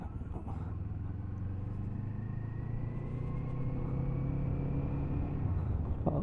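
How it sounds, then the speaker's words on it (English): A Kawasaki Eliminator motorcycle's steady, low engine drone rumbles throughout as it decelerates under engine braking, with a faint rising whine layered on top and no voices. "It's a nice sound on the engine brake."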